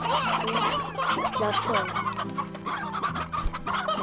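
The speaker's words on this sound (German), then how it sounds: "Und hier meine Hühner." Chickens in a video game cluck and chatter in a busy, layered flock, with short calls repeating over a steady tonal game background while someone briefly speaks.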